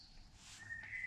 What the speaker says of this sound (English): so damn loud birds